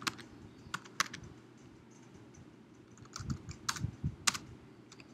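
Keys clatter on a computer keyboard in short irregular bursts of clicks, fairly quiet and close, with pauses between groups of keystrokes and no talking.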